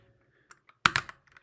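Computer keyboard typing while coding Rust exercises: a short cluster of several close, crisp key clicks in quick succession, preceded by a couple of faint isolated taps, no voice.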